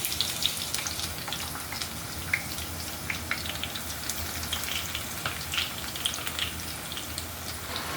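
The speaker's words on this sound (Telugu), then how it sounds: "మిగతా ఉల్లిగడ్డ కూడా వేయించుకున్నాను." Onions frying in oil for Hyderabadi chicken dum biryani give off a steady, soft sizzle dotted with small crackles and pops, with no talking.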